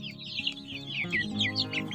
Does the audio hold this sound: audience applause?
no